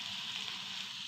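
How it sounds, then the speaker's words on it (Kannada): Mustard and spices for a tempering sizzle in hot oil with sambar powder, for a moong dal and green chilli sambar; a dense, steady crackling hiss that fills the whole short moment with no voices. "ಇವಾಗ ಇದಕ್ಕೆ ಒಂದು ಒಳ್ಳೆ ಒಗ್ಗರಣೆ ಕೊಟ್ಬಿಡೋಣ."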